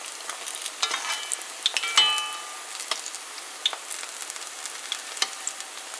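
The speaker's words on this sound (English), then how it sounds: "So you're gonna fry these until they're nice and golden brown." Vegetable pakoras frying in hot oil, a steady close crackle and sizzle with scattered sharp pops, no voices over it.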